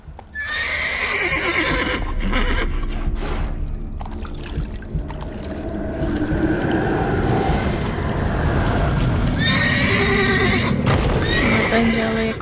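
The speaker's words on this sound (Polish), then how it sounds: "Fajny koń." A horse in The Witcher 3 video game neighs and whinnies loudly up close, with clip-clopping hooves and watery, splashing movement, while voices speak briefly over parts of the scene.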